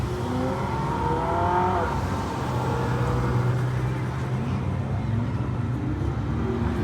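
Ferrari cars in a parade at the Spa-Francorchamps circuit, with a steady loud engine drone and rising revs as cars pass close by, and faint voices in the background.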